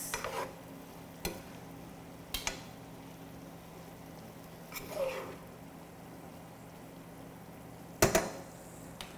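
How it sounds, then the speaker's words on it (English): Scallions are stirred into beef and broccoli in a pan, a faint low sizzle underneath with a handful of spaced utensil knocks and scrapes against the pan. "I'm going to give this a mix."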